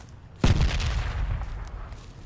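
A launched grenade explodes in a video game: one sudden, heavy boom rolls out into a long, rumbling decay that fades slowly over the next two seconds.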